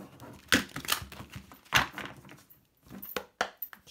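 A deck of tarot cards is shuffled by hand in a quiet room, making several crisp, papery bursts of riffling and tapping with short pauses between them.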